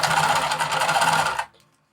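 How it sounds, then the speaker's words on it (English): A sewing machine stitches a 3/8 inch seam on a wristlet bag, running in a fast, steady, loud whirring burst for about a second and a half before stopping sharply into silence. "And then I am going to sew across at a 3/8 inch seam allowance."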